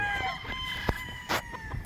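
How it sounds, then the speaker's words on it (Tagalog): At a poultry expo in Tanauan, Philippines, a rooster crows steadily in the foreground while chickens cluck and scratch around it, with a few sharp clicks mixed in. "mga manok na ito"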